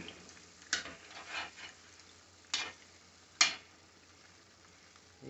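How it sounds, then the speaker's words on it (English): Carnitas sizzling faintly in a pan while being stirred, with three sharp scraping clinks of a utensil spaced a second or two apart over a quiet frying hiss. "We'll stir that in there and ride it out."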